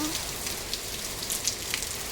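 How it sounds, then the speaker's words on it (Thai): Heavy rain pours onto surfaces outdoors during a storm with strong wind, a dense, continuous hiss with scattered louder drops, close and steady throughout. "ทั้งลมทั้งฝนนะคะ"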